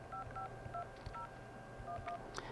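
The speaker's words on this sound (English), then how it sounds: "If we dial some phone number," A cell phone keypad sends a quick run of DTMF dialing tones while a phone number is entered, the beeps crisp and evenly spaced against a low steady hum with no speech.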